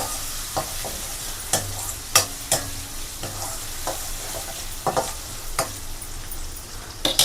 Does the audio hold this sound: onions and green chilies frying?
yes